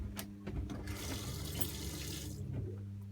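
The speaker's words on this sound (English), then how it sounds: "Here's the pump switch. Here, you turn it on." Water runs from a camper faucet into a sink with the onboard pump switched on, a steady close rushing stream with a low pump hum beneath it, continuous for about three seconds.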